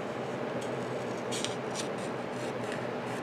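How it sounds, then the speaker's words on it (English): Scissors trimming the edge of a sticker: a handful of quiet, crisp snips and rubbing cuts in uneven rhythm, close up over a soft room hiss, no talk. "I'm just going to trim that up with the scissors"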